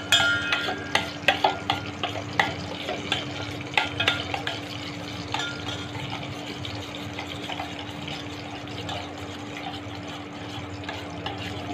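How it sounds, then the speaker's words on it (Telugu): Spoon stirring yogurt mixed with salt, turmeric and chili powder in a bowl, heard as a steady run of close scraping and wet clinking strokes, busier at first, with a constant low hum beneath and no talking. "1/2 టీ స్పూన్ కారం వేసి బాగా mix చేసుకోండి"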